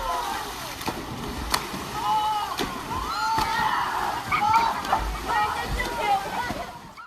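Water splashing and sloshing in a pool during a water polo game with a goal scored, heard under steady voices and crowd noise with scattered splashes throughout.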